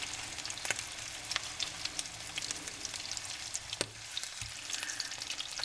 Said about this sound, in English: Fry these beauties on medium heat till they're lovely and golden and brown on both sides.